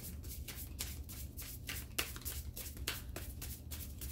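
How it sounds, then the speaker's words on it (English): Tarot cards riffle and slap together in quick repeated bursts, close up, with a steady low hum underneath and no talking. "I'm going to give it one more shuffle."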